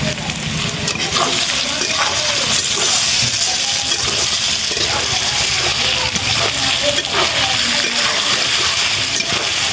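Potatoes fry in a pan for a fish, aubergine and potato curry, a steady dense sizzle with occasional clinks of a utensil, loud and close throughout.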